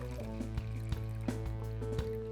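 Water poured into a pot holding sugar gives a close, continuous liquid sound with small splashes and drips, over a steady background hum.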